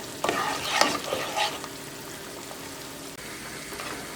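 Meat and onions fry in a pot for an Azerbaijani dish, with a spoon scraping and stirring in several quick bursts near the start over a steady crackling sizzle.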